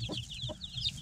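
A broody hen and young chicks cluck together close by, with several short low clucks mixed with rapid high peeping running through the moment.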